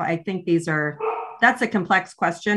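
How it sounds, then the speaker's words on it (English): A dog barks in the background during a CalSTRS Teachers' Retirement Board meeting, with a few yips and barks mixed under someone speaking close to the microphone. "excuse my dog in the background."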